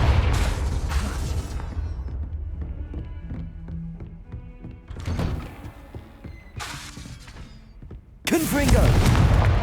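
A Confringo spell blast in Hogwarts Legacy: several loud booming bursts, one early, a sharp surge near the middle and a big final blast, over a busy game background with faint music and speech.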